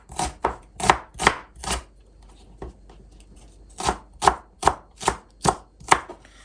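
A single onion sliced with a knife on a board for soy sauce fried noodles, two runs of crisp rhythmic chops separated by a short pause, close and clear, no voices.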